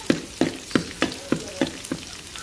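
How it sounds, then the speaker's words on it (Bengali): Garlic frying in oil for a tempering for beef curry, a steady sizzle punctuated by about eight regular scraping stirs of a spatula, close and loud with no voices. "রসুন ভাজতেছি, এখানে শুধু রসুন।"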